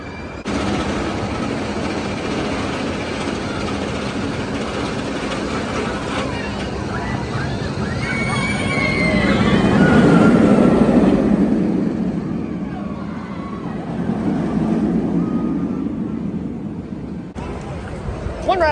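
Batman The Ride roller coaster at Great Adventure roars past in a long rumbling swell that peaks mid-clip, with crowd chatter, screams and amusement park bustle around it, loud and close.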